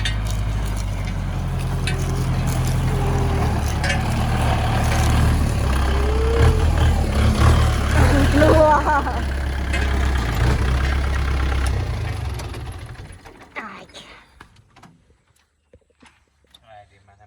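A farm tractor engine runs with a loud, low rumbling drone for about twelve seconds, then fades away; people talk over it throughout.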